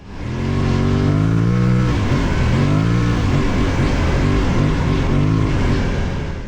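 An Aprilia Tuareg Rally 660 motorcycle cruises on a motorway, its loud engine drone steady and close with pitch shifts from gear changes, wrapped in strong wind rush.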